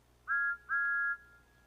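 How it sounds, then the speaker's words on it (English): A toy-train steam whistle from the cartoon Thomas the Tank Engine gives two clear, high, steady blasts, a short one then a longer one, alone against a quiet background. "When he's happy, he blows his whistle."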